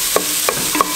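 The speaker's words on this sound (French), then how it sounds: "on va venir mélanger et faire en sorte que les oignons soient bien rouges" Homemade tomato paste gets stirred into onions in a pot for a red-wine braised pork stew: three quick, distinct spoon scrapes against the pot over a low constant hiss.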